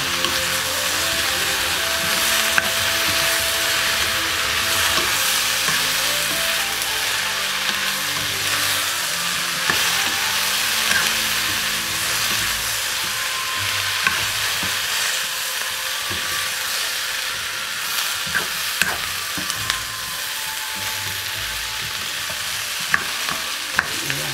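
Chicken hearts fry in sesame oil after a splash of water, giving a loud, constant close-up sizzle and crackle, with occasional sharper pops and a few clinks from stirring.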